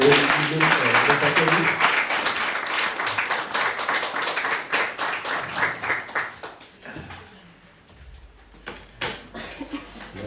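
Church congregation claps for the pastor in dense, lively applause that thins to scattered claps after several seconds, with a voice speaking partway through.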